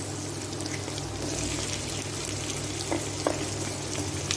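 Carrots, beans and potatoes dropped into a pan of frying onions for sambar rice, giving a steady close sizzle with a couple of brief soft clatters of vegetables landing, no voices.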